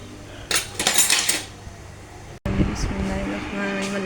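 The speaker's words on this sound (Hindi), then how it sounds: "ये थोड़े से बर्तन हैं, 2-3 अभी भी हम धो लेते हैं।" A few dishes being washed in a home kitchen: clinks and clatters of pots and cutlery, a busy burst of clanking followed by lighter knocks, close by.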